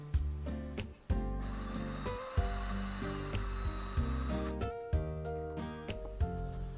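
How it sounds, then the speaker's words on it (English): Toy car axles from a Matchbox Austin Cambridge A50 spin in a drill against emery paper, a close whirring drill tone that rises and dips in repeated bursts with scratchy rubbing. "Axles in the drill with some emery paper to give them a nice shine,"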